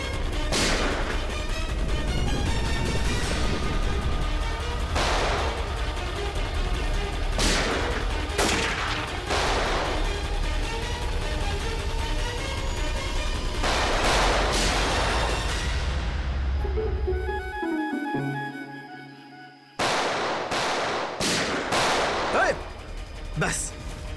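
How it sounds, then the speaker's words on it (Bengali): Repeated gunshots ring out in irregular bursts, loud and close, with sharp cracks that echo amid shouting. The firing stops abruptly near the end, then a few final sharp bangs follow. "অনেক চালিয়েছিস গুলি"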